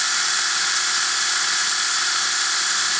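An R1 Wurks V30 motor spinning at about 19,600 RPM holds a steady, close, high-pitched electric whine for the whole stretch with no other sounds.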